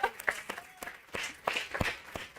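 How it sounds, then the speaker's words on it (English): Light applause from a small audience at a live astronomy talk in Seattle, scattered claps rising and falling for a couple of seconds, fairly faint and alone. "so now you can applaud."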